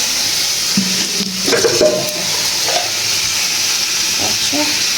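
Fish frying and being stirred in a pan in a home kitchen, a steady close sizzle with scraping stirs and small clatters throughout.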